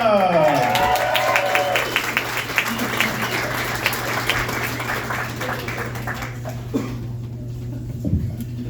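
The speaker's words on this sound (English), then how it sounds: "I love that cheap applause off the start." Audience applause at a stand-up comedy club, with scattered clapping and cheering from a crowd, fading gradually, with a dog whimpering briefly at the start.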